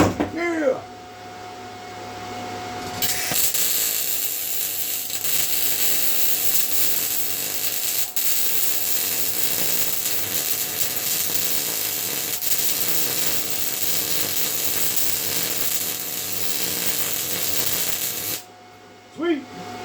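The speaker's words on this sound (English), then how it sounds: "let's do some more welding" MIG welding a patch panel onto the body of an old blue van, a steady loud crackling buzz running almost unbroken for about fifteen seconds, starting and stopping abruptly, with no talk over it.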